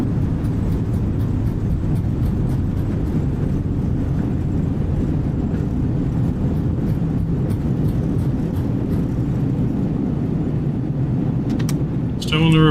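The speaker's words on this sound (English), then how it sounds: "Alright, reversers are out." Airbus thrust reversers deployed on landing in Microsoft Flight Simulator, a loud steady broadband roar that holds throughout and eases slightly at the very end.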